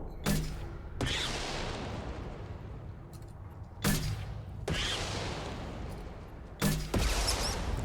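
Game gunfire and booming weapon blasts in Mass Effect 2 on Tuchanka, several loud sharp reports spaced a few seconds apart, each followed by a long decaying rumble.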